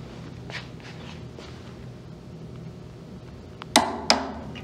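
A 3/8 inch drive torque wrench set to 48 foot-pounds gives two sharp, close clicks in quick succession near the end of a quiet stretch.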